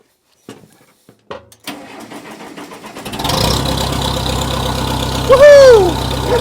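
A Case 430 tractor engine primed with starting fluid cranks in a few short bursts, then catches and settles into a steady loud idle, with a rising whoop near the end.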